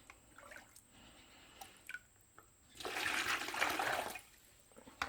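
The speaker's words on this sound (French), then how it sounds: "je vais mettre 2 litres d'eau" About two litres of tap water pours into a bucket while powdered enamel glaze is being mixed: quiet drips and small splashes, then a louder sustained gush of roughly a second before it tapers off.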